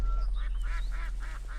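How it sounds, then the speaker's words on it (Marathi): Ducks on a village farm hit by bird flu give a run of four or five nasal quacks, moderately close over a steady low hum and background noise. "हो, ती बघा तिकडे बदकं."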